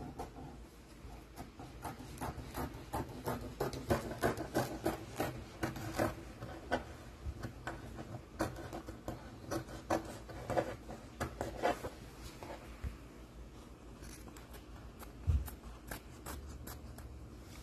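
Scissors cut through Ankara cotton fabric to shape a dress neckline, giving soft, quiet crunching snips and rustling rubs in an irregular stream, with a few brief bumps.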